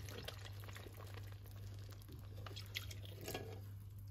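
Milk pours into a pot of rice cooking on the stove, as sweet rice pudding is made, giving a soft steady liquid trickle and splash over a low continuous hum, with no talking.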